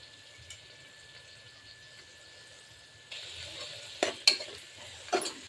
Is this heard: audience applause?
no